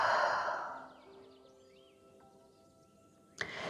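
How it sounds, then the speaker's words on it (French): A relaxed exhale blown out through the mouth during a calm breathing exercise, a soft airy rush that fades away within a second, followed by quiet with faint background tones. "Et on souffle par la bouche."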